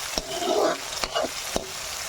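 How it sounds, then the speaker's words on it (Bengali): Onions fry in a pan for a chicken liver masala, a close, steady sizzle broken by several quick scraping stirs. "পাঁচ মিনিটের মতন একটু ভেজে নেব পেঁয়াজগুলো"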